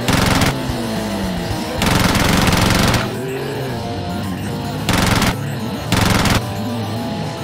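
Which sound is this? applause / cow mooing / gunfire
gunfire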